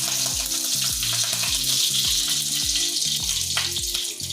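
Curry leaves hit hot oil tempered with cumin, bursting into a loud, close crackling sizzle with rapid spitting pops that hold strong throughout.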